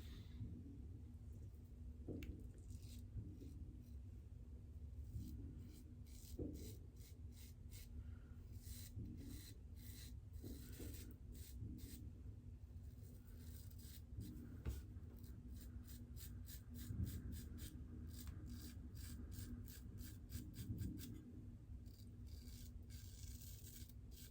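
A razor scrapes through thick lather of Mitchell's Wool Fat soap in quiet, repeated short strokes, soft rasping passes coming one after another, close and faint with no talk.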